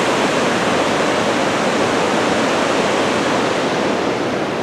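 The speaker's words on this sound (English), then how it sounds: "We've made it back over to the river" A river rushing beside a forest trail in Mt Rainier National Park, a loud, steady broadband roar of water holding constant without pause, with no voices.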